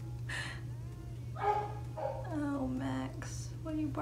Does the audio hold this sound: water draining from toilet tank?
no